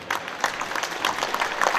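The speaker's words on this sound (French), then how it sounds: "vous pouvez applaudir" Brief burst of audience applause at a Citroën press conference at the Epoqu'Auto 2019 classic car show, a short patter of hands filling the room at moderate volume.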